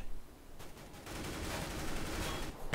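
Gunfire in Counter-Strike: Global Offensive rattles in a sustained burst after a few sharp early shots, moderately loud with a dense, noisy crackle and no talking.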